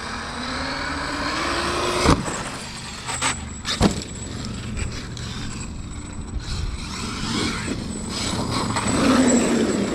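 A Traxxas X-Maxx Ultimate RC monster truck with electric motor and mod 1.5 gearing driving and jumping outdoors, whining motor rising and falling with sharp impacts and rumbling tire noise.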